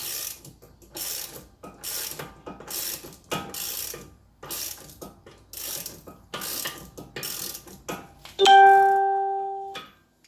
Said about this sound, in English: I'm just tightening the bottom nut here.